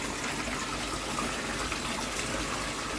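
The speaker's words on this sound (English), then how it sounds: "So that's the flow out of my filter coming out that pipe." Pond filter water, pump fed, pouring steadily out of an outlet pipe, a constant close gushing rush with no pauses and no voices.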